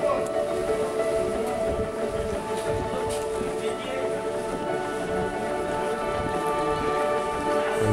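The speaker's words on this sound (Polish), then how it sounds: "Było deszczowo, ale nadal pięknie." Steady rain falls in Akre, Kurdistan, a dense continuous patter on surfaces close by, holding even and unbroken throughout with no voices.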